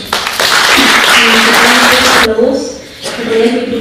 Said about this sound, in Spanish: un fuerte voto de aplauso.